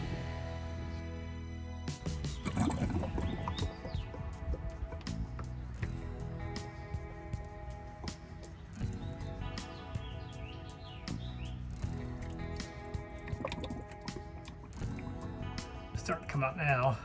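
Differential fluid is squeezed into the rear differential of a 2023 Honda HR-V until it overflows, with faint squelching, trickling and dripping under intermittent speech from a person working on the car.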